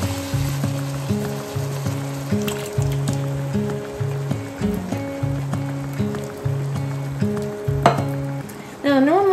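Two cans of diced tomatoes stirred into a sizzling pot of homemade chili, a soft steady frying hiss with occasional stirring scrapes under a looping melodic backing tune.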